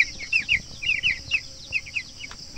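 Broiler chicks, two weeks old, in a farm pen chirp and cluck in rapid repeated high peeps, a cluster of calls nearby that rise and fall in short bursts.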